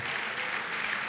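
A church congregation claps for the Lord during a Sunday service, a brief, steady wash of applause with no voices above it.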